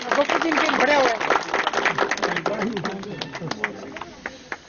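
Audience applause at a turban-honouring ceremony in Darewala, with loud, dense clapping that fades into scattered claps, while a voice talks over it.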